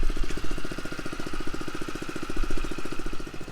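A gasoline engine drives a water pump on a homestead firefighting trailer, running with a rapid steady chug, close and loud, with a constant pumping drone and no voices.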